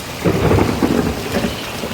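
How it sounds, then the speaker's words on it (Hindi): Heavy rain and hail pour steadily in Lahore while deep thunder rumbles through it, swelling and fading in low rolling waves. "अल्लाह माफ़ करे इतनी ज़्यादा बारिश आई है"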